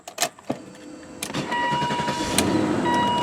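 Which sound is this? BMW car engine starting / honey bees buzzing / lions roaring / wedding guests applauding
BMW car engine starting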